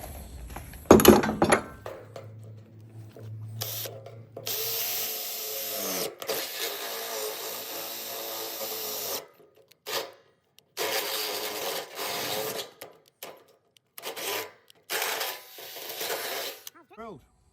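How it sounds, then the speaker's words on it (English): A Ryobi cordless drill from the Ryobi One battery system bores post holes for a deck, heard in several short bursts of whirring and grinding separated by pauses, with clatter of handling between them. "Nice and easy, beautiful little Ryobi drill there. Nice cordless one."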